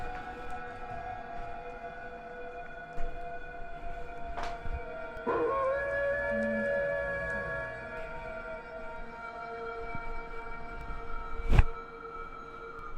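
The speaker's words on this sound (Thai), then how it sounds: "หมาหอนแบบเนี้ย" A dog howls at a distance in a quiet outdoor setting, one thin drawn-out wavering tone lasting a few seconds amid faint background hum, with a few sharp knocks and clicks scattered around it.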